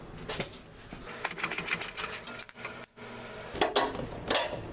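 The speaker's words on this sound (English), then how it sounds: "Tyler's pulling our wheel off now so we can unbolt our upper control arm and gain some play with that axle" A road wheel is pulled off a Mazda Miata 1.6 during suspension work, giving a string of close metallic clanks, rattles and scrapes with a brief quiet gap in the middle.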